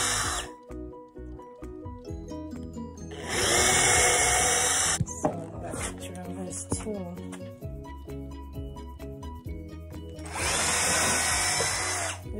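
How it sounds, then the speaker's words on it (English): A power drill pre-drills holes in wood for yurt brackets with two loud bursts of whining drilling. Clattering and handling noises fall between the bursts. "I'm gonna do the pre-drill holes."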